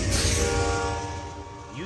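A passenger train passing close by with a deep rumble and steady tonal drone that slowly eases, suggesting a horn or engine hum. A voice briefly sounds near the end.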